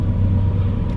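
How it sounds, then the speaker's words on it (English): Loud road traffic outside a shopping mall at night, a heavy low rumble of passing cars rolling steadily without a break. "The cars are loud."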